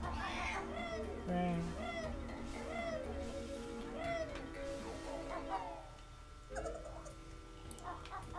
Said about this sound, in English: That's a random cat.